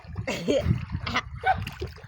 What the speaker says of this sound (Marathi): दाजीनी खाल्ली उडी, पाण्याचा हादरा बडी